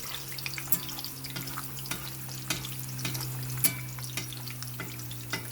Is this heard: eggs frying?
yes